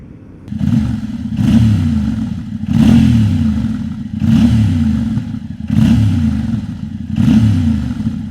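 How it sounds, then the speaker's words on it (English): A Yamaha Ténéré 700 CP2 twin-cylinder motorcycle engine revs repeatedly in a steady rhythm, about six rising pulses of engine roar, loud and close, with no talking. "I'm not sure whether the sound of this CP2 engine has come out on the audio"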